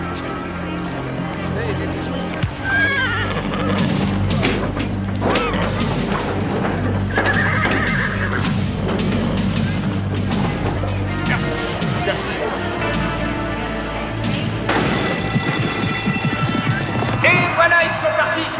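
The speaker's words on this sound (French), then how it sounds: "Les chevaux, placés maintenant au départ, sont sous les ordres." Racehorses at the starting gate of a race, with neighing and hoof clatter mixed into steady crowd babble and a busy, dense background throughout.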